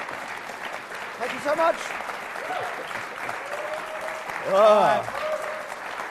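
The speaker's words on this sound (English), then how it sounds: "Less clapping, more wisdom." Steady audience applause for a performer fills the room throughout, swelling louder near the end while someone speaks briefly over it.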